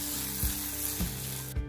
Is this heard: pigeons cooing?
no